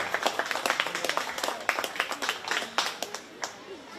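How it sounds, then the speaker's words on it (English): Scattered hand clapping from parents and family at a county fair 4-H calf show, individual claps distinct and uneven, thinning out toward the end, with faint voices in the background. "give yourselves a round of applause"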